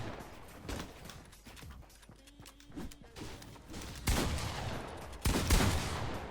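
Gunfire cracks in a shooter video game: bursts of rapid shots, mostly moderate in level, that grow louder and denser toward the end, with background game noise and no voices.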